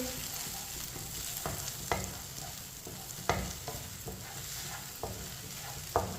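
Eggs frying in a pan for Chinese rice are stirred with a spoon under a steady sizzle, with irregular scraping knocks from the spoon against the pan every second or so.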